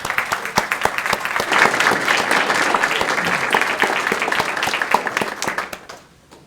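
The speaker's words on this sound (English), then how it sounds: "Let's give them a round of applause." Audience applause at an annual meeting held in a steakhouse: a dense round of clapping with sharp individual claps standing out, sustained for several seconds before tapering off and ending.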